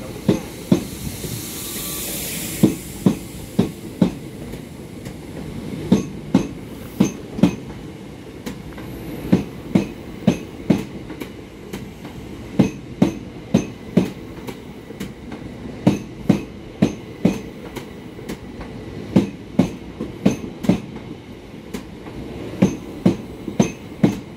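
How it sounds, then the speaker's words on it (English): A Class 375 electric train runs through the station platform at Hastings without stopping, with loud rhythmic clacks from its wheels crossing rail joints and a steady rumble and hiss continuing throughout, with no speech. "please stand clear of the train now passing through platform"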